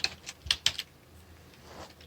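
Two quick keystrokes on a computer keyboard while playing Dwarf Fortress, clicking sharply at close range with a few lighter taps around them, no talking.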